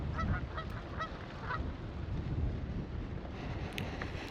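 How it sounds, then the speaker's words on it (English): Several low-flying geese honk overhead in scattered calls as a formation comes in to land near water by Nottingham Castle, over heavy rumbling wind noise, the honks fairly faint and intermittent. "these low-flying geese nearly got me"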